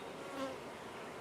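Honey bee swarm buzzing softly and continuously, a faint dense drone with no voices.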